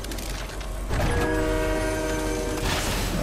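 Train in the Fortnite video game rolls along with a steady mechanical rumble and metallic creaking, a sustained horn-like tone sounding over it, loud and without talk.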